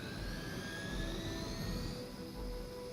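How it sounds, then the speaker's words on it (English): A steady, whining turbine roar from the Hydra helicopter in the video game Marvel's Midnight Suns, loud and continuous with a low rumble beneath it. "Disable the Hydra helicopter."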